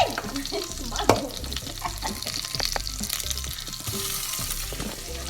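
Onions frying in a hot pan for a Filipino vegetable coconut stew, a loud steady sizzle with a sharp burst near the start as they hit the oil, stirring clatter underneath.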